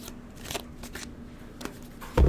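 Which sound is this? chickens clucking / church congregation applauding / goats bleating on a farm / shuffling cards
shuffling cards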